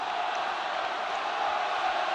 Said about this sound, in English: Munster crowd roaring on their team to see this one out